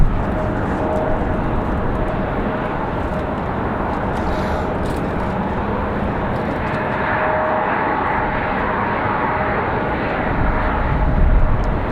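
Airbus A220 airliner arriving at Raleigh-Durham airport: a steady, broad engine roar with a faint whine, holding level and swelling slightly near the end, with no talk.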